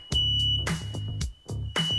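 A shrill, continuous smoke alarm tone sits in the background of a home while loud, repeated percussive bursts pound over it in an uneven rhythm.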